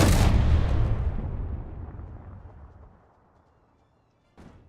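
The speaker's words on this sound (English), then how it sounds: "We can knock this tower down with these cannons." In a video game, cannons fire to knock down a tower: a heavy boom rolls off into a long fading rumble, then a second, fainter blast hits just before the end.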